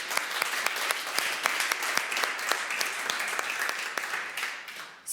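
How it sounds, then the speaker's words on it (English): Audience applause at the close of a pitch at an innovation challenge finals event, a steady dense clatter of many hands clapping that carries on for several seconds before cutting off sharply. "One final round of applause."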